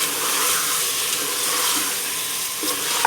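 Mutton roasting in a pan with ginger garlic paste, sizzling and frying in a steady close hiss with light stirring scrapes, no voices, for a few seconds.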